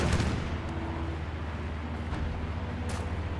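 Nuclear strike sound effect from the strategy game Hearts of Iron IV: a sustained, heavy low rumble that holds steady and loud throughout, with faint sharper cracks scattered on top.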